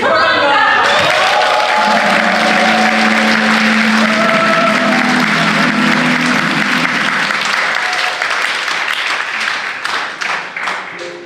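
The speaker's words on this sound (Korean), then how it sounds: "많은 박수" Loud, sustained audience applause opens a family gathering ceremony in Gyeyang, dense clapping that fills the room for several seconds before thinning into scattered claps and fading near the end.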